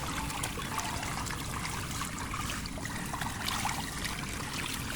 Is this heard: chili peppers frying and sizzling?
no